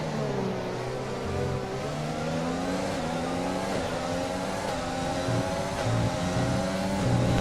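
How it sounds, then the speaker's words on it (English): Formula 1 car engine in the F1 2020 racing game at the British Grand Prix, heard onboard, with a loud, steady high-revving whine whose pitch climbs and dips through gear changes and holds throughout. "Another beautiful sounding car."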